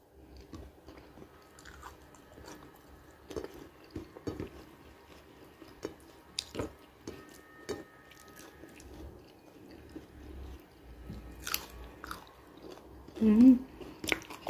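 Crunchy food is chewed up close, with irregular crisp bites and crunches, some wet squishing, and quiet pauses between mouthfuls that grow louder toward the end.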